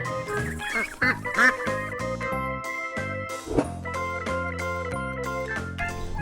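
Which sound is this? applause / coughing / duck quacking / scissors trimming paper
duck quacking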